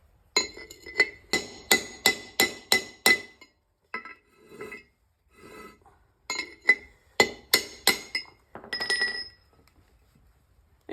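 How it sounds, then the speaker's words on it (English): A punch and hammer knock a front wheel bearing race out of a 1990-1996 Ford, a series of sharp metallic clinks in rhythmic bursts of several blows, pausing between groups, close and fairly loud. "We should just be able to use a punch and a hammer and knock that out the bottom."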